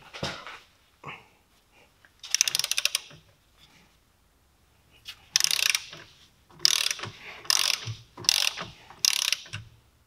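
A ratchet torque wrench tightens the front brake bolts on an Opel/Vauxhall Corsa C to 100 newton meters, heard as several close, sharp bursts of rapid metallic clicking separated by short quiet gaps.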